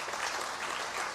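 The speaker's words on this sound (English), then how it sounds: "I think a very big applause to all of you as well" Audience applause at an energy efficiency industry summit in India, a steady dense wash of clapping that fills the short stretch evenly without pause.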